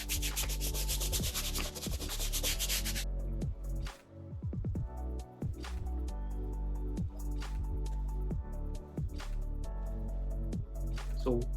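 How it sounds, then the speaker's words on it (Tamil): A yellowed shoe sole is scrubbed with water and a whitening product, giving close, steady rubbing strokes with squeaky, scratchy friction that repeats throughout. "ஸோ இப்போ வாட்டர் வச்சு ரப் பண்ணி காட்டுறேன்"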